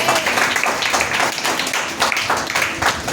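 A church congregation claps hands loudly and steadily at a sermon, the dense applause sustained throughout with rhythmic surges and no voices over it.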